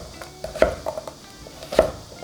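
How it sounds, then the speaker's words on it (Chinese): A kitchen knife chops a peeled-core green winter melon with its skin still on into chunks on a cutting board, delivering a few sharp, close thuds spaced irregularly over quiet background. "剩下我们给它切成块儿。"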